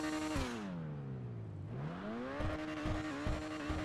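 Overflod Entity MT supercar in GTA 5 revving loudly up close, its engine note dipping low then climbing back before a series of sharp, rhythmic throttle blips near the end.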